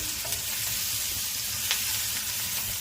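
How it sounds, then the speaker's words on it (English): Kapenta fish frying together with onions in a pan give a steady, close sizzle with faint crackles and the occasional stir, with no talk over it. "We fry our kapenta together with onions"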